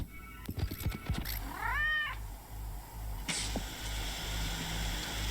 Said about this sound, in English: Kitty. Where you going, kitty?